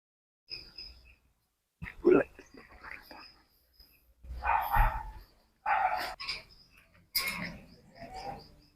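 A few short dog barks scattered across several seconds, fairly close, mixed with quiet voices and some clicking sounds.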